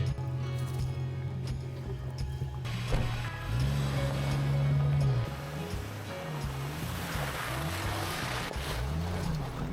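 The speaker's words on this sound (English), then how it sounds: "I think we better take the Jeep" A Jeep drives off-road on an old dirt road at an off-grid homestead, its engine droning steadily and rising and falling in pitch over a constant rush of wind and road noise.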